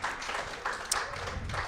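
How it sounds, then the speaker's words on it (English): A live audience applauds for restaurant staff from Appleton at a Packers talk show: a soft, steady wash of clapping throughout, fairly distant and even, with no speech over it. "How about a round of applause for the Cozy Corner folks?"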